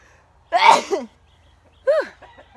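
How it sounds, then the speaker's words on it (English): A single loud, close sneeze bursts out, followed a moment later by a short breathy vocal sound. "I gotta sneeze."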